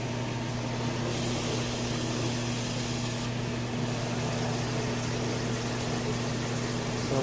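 An LG washer dryer combo turns its drum in rinse mode, giving a steady mechanical hum with a constant low drone and a broad whooshing wash that lasts the whole stretch and never lets up.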